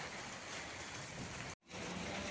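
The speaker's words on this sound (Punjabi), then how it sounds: "ਮੀਂਹ ਪਈ ਜਾਂਦਾ" Steady hiss of heavy rain pouring down during a stormy day with lightning in Punjab, dense and continuous, with a brief dropout near the end before the downpour resumes.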